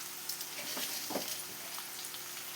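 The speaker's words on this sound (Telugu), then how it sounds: "నేను తిరగమాత గింజలు కూడా వేస్తున్నాను" Tempering seeds frying in hot oil with chilies and onions for a Karnataka-style uggani, a soft, quiet crackling sizzle with small pops scattered throughout.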